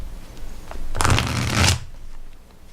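A deck of English Magic Tarot cards gets a bridge shuffle, a brief close riffle of rapidly flicking cards lasting under a second, with quieter handling before and after.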